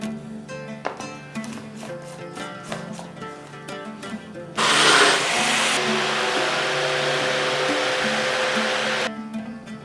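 Blender whirs loudly for several seconds, blending an ice cream mixture sweetened with honey, rising abruptly over background music and then cutting off.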